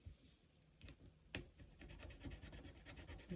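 A budget scratch-off sticker being rubbed with short, soft rasping scrapes in a steady back-and-forth rhythm, quiet and close, with no talk.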